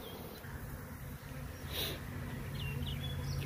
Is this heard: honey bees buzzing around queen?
yes